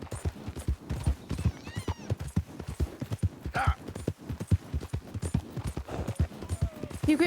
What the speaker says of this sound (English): I guess I'll take this horse.